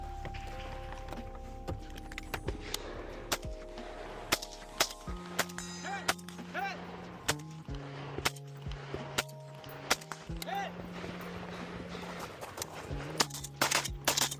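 Gunshots on a practical shooting competition stage with an AK-style rifle, sharp isolated reports spaced irregularly across the clip, mixed with footsteps and movement, fairly close but moderate in level.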